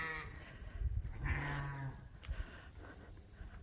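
Dorset lambs bleat inside a barn, several calls rising and overlapping in the first two seconds, followed by a few shorter, quieter bleats among rustling and shuffling at close range.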